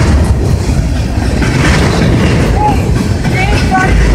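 A Union Pacific freight train rumbles past at National Train Day in the Sacramento and Roseville area, a loud, continuous low roar with faint squeals, and people talk over it.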